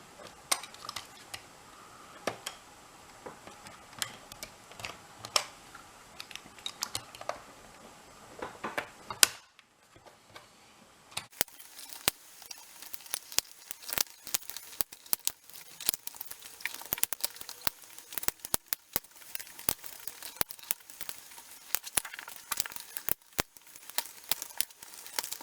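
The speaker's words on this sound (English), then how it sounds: "these little plastic rivets have to be cut out" Plastic rivets being cut out inside a PS4 Slim console: faint, close clicks, snips and scraping that repeat irregularly, with a brief pause partway through and denser, sharper ticks afterward, no voice.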